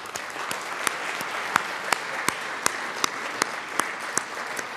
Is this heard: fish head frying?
no